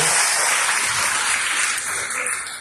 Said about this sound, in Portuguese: Levanta um aplauso bem forte a esse grupo abençoado.